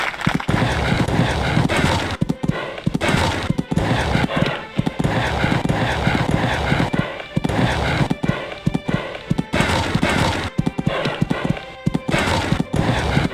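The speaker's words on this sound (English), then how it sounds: "And that's a good canter." Hooves of a cantering horse in the video game Equestriad 2001, during an expert-level dressage test at the Burghley Horse Trials, beat in a steady, loud rhythmic clip-clop that runs the whole time with no voices over it.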